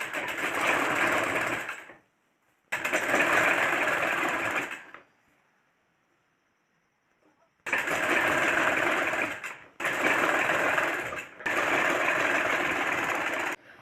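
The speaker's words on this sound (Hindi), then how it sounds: "अब ऐसे ही इसमें भी सिलाई लगा देना है।" Sewing machine stitching seams on a kurta (salwar suit), running in several steady bursts of a few seconds each with brief pauses between, loud and close with no talking.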